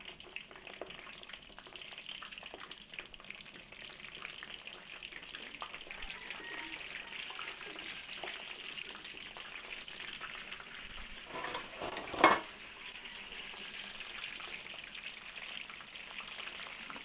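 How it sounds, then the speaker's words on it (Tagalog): Embutido fries in a pan with a steady, soft sizzle that runs throughout, and a brief louder clatter of a utensil near the end. "Prito na rin po natin dito yung ating embutido."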